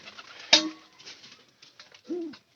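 Pigeons cooing in a loft, one soft low rolling coo near the end after a sharp knock and faint scattered rustling; fairly quiet overall.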